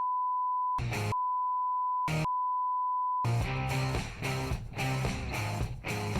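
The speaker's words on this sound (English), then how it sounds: "Bleep this out" A steady censor bleep tone covers a spoken phone number in three stretches broken by brief fragments of speech, followed by music, loud and close.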